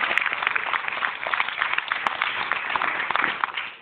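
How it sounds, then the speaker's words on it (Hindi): Applause from an audience at a business gathering, a dense, steady patter of many hands clapping throughout, moderately loud and continuous with no clear pauses. "इन सभी के लिए साथियों एक दफा से जबरदस्त तालियां हो जाए"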